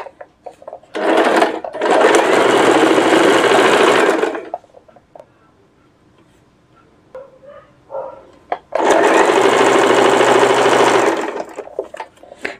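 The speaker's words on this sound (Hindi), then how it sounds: "आधे इंच जितनी सिलाई पक्की सिलाई लगा देनी है" A sewing machine sews a half-inch seam on a suit in two loud, steady bursts of about three seconds each, separated by a quiet gap holding faint handling noises.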